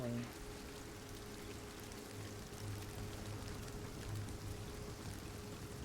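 Rain in the game Hunt: Showdown pours as a steady, even hiss of falling water with a low hum beneath, continuous and moderately loud with no voices.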